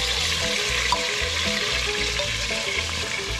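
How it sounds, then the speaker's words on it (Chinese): Chicken sears in a pan over a camping cookstove outdoors, giving a loud, dense, continuous sizzle with steady crackling throughout, no voices. "就稍微把鸡煎一下"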